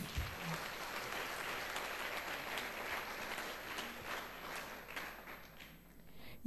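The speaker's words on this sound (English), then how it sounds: "So I just want you to give a clap offering to yourself." Students clapping at a girls' STEM camp, a quiet, steady patter of many hands heard from a distance, thinning slightly toward the end.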